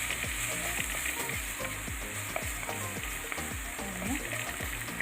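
Fish peera sizzling in a pan with kudampuli water as it is stirred, a loud, close, continuous frying crackle broken by repeated spoon scrapes.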